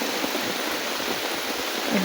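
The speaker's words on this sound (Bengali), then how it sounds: "বৃষ্টি দেখো বৃষ্টি বৃষ্টি বৃষ্টি বৃষ্টি" Rain falls steadily outdoors among banana and lemon trees, an even hiss without distinct drops, with no voices.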